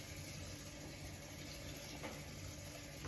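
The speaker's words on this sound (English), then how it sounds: "So we're gonna put some cold water in here just to keep this nice and fresh." Cold water runs and splashes into a bowl while banana flower is being prepared, a steady broadband hiss of flowing water, very quiet overall with no talking.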